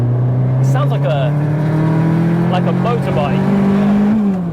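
A 500+ BHP big-turbo Mk1 Cupra engine revs with a high-pitched, rising whine that stays loud and close, while voices talk over it.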